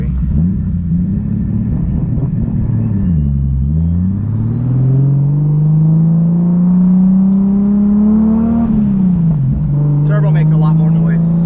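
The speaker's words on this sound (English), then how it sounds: "Turbo makes a lot more noise." A turbocharged 600hp Lexus IS300 with a 1.5JZ engine pulls hard, a loud deep engine drone rising in pitch and dipping twice as it shifts, with people talking over it inside the car.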